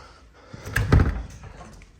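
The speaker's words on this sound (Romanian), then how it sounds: "Deschidem ușa." An Opel Tigra's car door opens with a quick mechanical click and a heavy low thunk, close by, then the room settles back to quiet.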